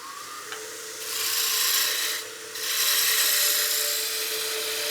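A wood lathe tool cuts a baseball bat blank in smooth, steady passes, giving a continuous close hiss of shaving wood over an even motor hum.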